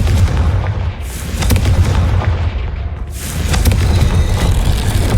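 A Confringo spell explodes in a Harry Potter–themed video game as two loud, deep booming blasts about two seconds apart, each followed by a rumbling roar and debris noise.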